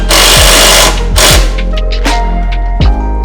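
An impact tool hammers on 16 mm bracket bolts during an off-road Toyota Tacoma hydraulic bump stop install, loud and close, with rapid rattling bursts broken by sharp thuds and short pauses, and no talking.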